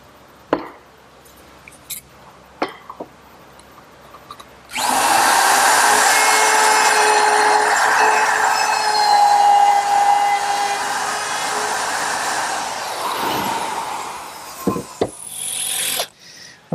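A drill pre-drills pilot holes for soft brass hinge screws in a Shaker wall clock case. It makes one continuous, close, loud whirring run of about eleven seconds, with quiet workshop clicks before and after and no talking.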